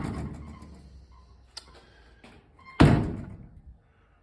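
A sagging old car door from a 1956 Eliza 40 under rust repair creaks and clunks as it is unlatched, then lands with a loud, close thunk that fades after a moment.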